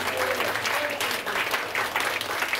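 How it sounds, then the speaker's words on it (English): A church congregation claps hands in praise during a worship service, steady dense applause from a crowd with a few voices audible underneath. "Clap them hands and praise them."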